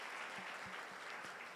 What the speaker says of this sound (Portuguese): a igreja vai cumprimentar vocês, dando uma salva de palmas para vocês